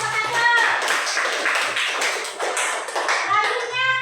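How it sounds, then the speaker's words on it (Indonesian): Schoolchildren in a classroom clap for a group of classmates after a presentation during a Pancasila lesson, with quick, fairly close claps and young voices chattering and calling out alongside. "Tepuk tangan untuk teman kelompok"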